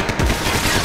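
Rapid gunfire in the video game Max Payne 3, a dense, loud, continuous burst of automatic shots that fills the whole moment without a break.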